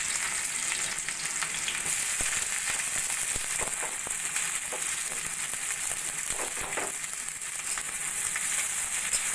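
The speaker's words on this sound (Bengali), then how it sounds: "পেঁয়াজটা আমি সোনালি করে ভেজে নেব।" Two large onions, thinly sliced, fry in hot mustard oil in a kadai, making a loud, dense, continuous sizzle with crackling and occasional stirring scrapes.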